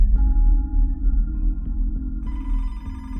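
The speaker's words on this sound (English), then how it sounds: "Detective Gamber got a phone call at his desk" A desk telephone rings at a police detective's desk, a repeating electronic ring tone sounding over a steady low hum and music bed, growing brighter and fuller toward the end.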